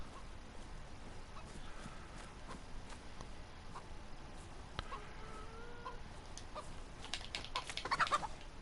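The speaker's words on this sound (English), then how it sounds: "There's a hen." Hen clucking in the video game DayZ, a few soft, scattered clucks over a steady ambient background with faint clicks, no talk.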